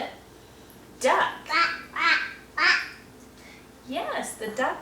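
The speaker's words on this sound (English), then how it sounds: "Yes, the duck says quack" Duck quacks in a toddler phonics game: five nasal calls in a fairly even rhythm, followed after a short gap by a few quicker quacks, moderately loud over a quiet background.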